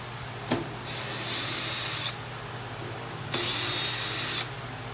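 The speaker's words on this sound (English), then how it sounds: "I put a quarter drive socket tool on the end of my cordless drill driver" A cordless drill driver fitted with a quarter-inch drive socket adapter and a T20 bit whirs in two steady bursts of about a second each, loud and close, with a quick click before the first.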